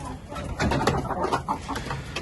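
Several chickens cluck and murmur close by, a busy overlapping chatter of short calls with no one speaking.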